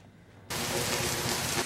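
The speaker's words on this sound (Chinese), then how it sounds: "外口落大雨" Heavy rain starts abruptly outdoors, a dense, loud, steady roar of water hitting surfaces that fills the clip after a quieter half-second of background, with no voices.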